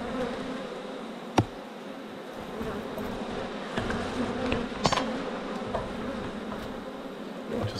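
Honey bees buzz steadily in an opened, long-neglected beehive, a close continuous droning hum with a few sharp clicks and handling knocks over it and no talking.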